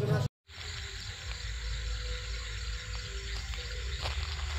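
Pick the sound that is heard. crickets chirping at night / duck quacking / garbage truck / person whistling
crickets chirping at night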